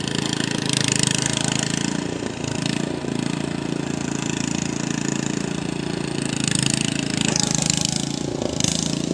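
A boat engine runs hard under full throttle, a loud continuous rumbling drone that holds steady throughout without pause.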